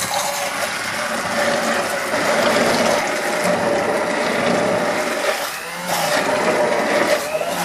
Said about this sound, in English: we take our immersion blender and start pureeing the